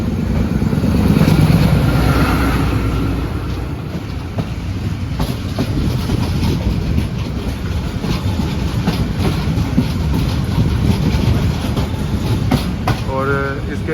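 The Shalimar Express, running from Faisalabad to Lahore, rumbles through Shahdara junction with a loud, continuous roar and rhythmic wheel clatter heard from on board, and a rising whine near the end.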